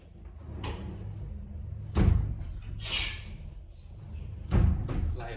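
A door slides and bumps shut indoors in a room, with several sharp thuds and scraping rushes spaced a few seconds apart, fairly close and loud, with no voices.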